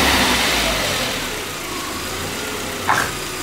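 A VW Passat B5 engine idling after a throttle blip, the idle hunting slightly and settling with a steady mid-pitched hum, a brief faint click near the end.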